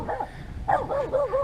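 A dog lets out a short bark, then after a pause a quick run of several yipping barks close by, with no talking over them.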